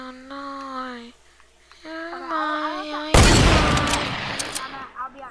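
A sniper rifle shot cracks out loudly and abruptly midway, its blast decaying into a noisy tail, after a stretch of people talking; more voices follow the shot.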